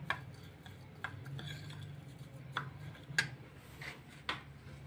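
Spices being mixed together for a restaurant-style mutton achar masala, giving soft scraping and several sharp utensil clicks spaced irregularly over a low steady hum, close and fairly quiet.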